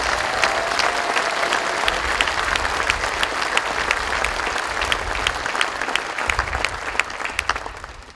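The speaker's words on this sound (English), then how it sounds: "a big round of applause for our nation's veterans and members of our armed forces" Outdoor audience at a national cemetery dedication ceremony applauding veterans and armed forces members, a steady, dense wash of many hands clapping for several seconds before fading slightly at the end.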